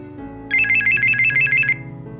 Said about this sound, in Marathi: आलाच बघा, कार्तिकचा फोन आहे, बघतो थांबा